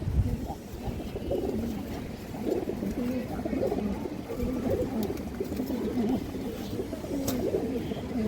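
Soft, repeated cooing of a pair of Maxi Giribaz pigeons, a pure-bred breed, rising and falling in gentle phrases close by, with someone talking over the calls.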